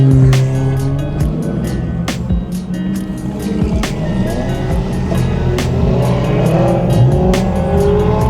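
A Ferrari passing nearby at a car meet, its loud engine droning and rising in pitch as it revs and accelerates, with other engine noise and crowd sounds around it.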